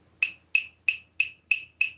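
Tapping on huge solid rocks of around fifteen tons: six sharp, ringing clicks at an even, unhurried pace, each close and crisp with a quick decay and nothing else around them.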